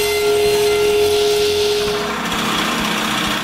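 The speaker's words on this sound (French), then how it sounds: "puis je coupe le diviseur à la bonne longueur." A power saw cuts a wooden divider for a tack box to length, giving a steady loud whine with a sustained high tone that drops out near the end, leaving a rougher cutting rasp.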